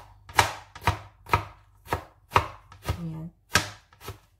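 Chili being chopped into cubes with a knife on a board: eight sharp, evenly spaced chops, close and distinct, with a short spoken word partway through.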